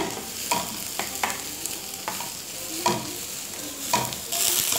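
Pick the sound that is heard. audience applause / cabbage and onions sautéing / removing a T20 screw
cabbage and onions sautéing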